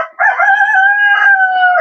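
A rooster crows in one long, loud call that holds steady for nearly two seconds, close by and with no other sounds around it.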